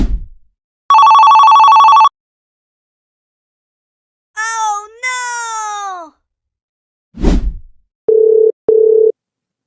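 A phone ringing on an outgoing call, heard as a loud synthetic ringback tone in separate short bursts with silent gaps between them and a warbling melodic tone in the middle, with no one talking.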